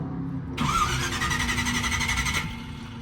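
A 1969 Chevy Nova V8 is given gas, its engine rising abruptly into a loud, sustained rev for about two seconds before dropping back toward idle.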